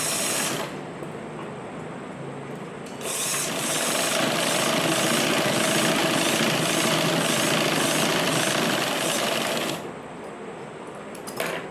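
A sewing machine stitching a back-open blouse runs in a steady, loud whirring burst of several seconds, with quieter machine hum before and after.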